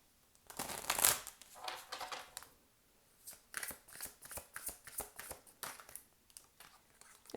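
Oracle cards shuffled by hand at close range, a run of soft papery riffles and flutters in short bursts, brisk and crisp, alone with no talking.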